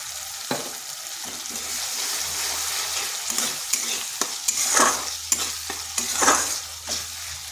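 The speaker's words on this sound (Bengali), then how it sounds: "এখানে আর একটু জল দেব।" Water is splashed into cabbage frying in a pan, setting off a steady hiss and sizzle with louder bursts and scraping stirs, close and without talk.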